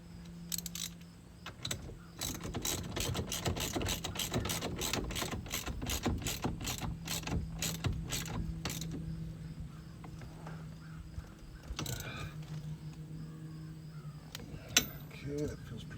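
A bolt being screwed into the steering wheel of a 1993 Ford F150 Lightning pickup, heard as a rapid run of sharp ratcheting clicks for several seconds, followed by a few scattered clicks and light handling noises.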